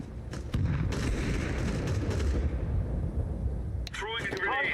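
A grenade exploding in a shooter video game, a deep booming blast with rumbling debris that lasts several seconds, after which a voice speaks briefly over the fading roar.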